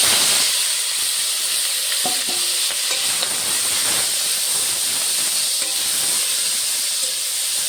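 Diced potatoes and green chillies frying in hot oil with cumin and nigella seeds for a cabbage curry, giving a loud, continuous hiss and sizzle with occasional spatula clinks, close up.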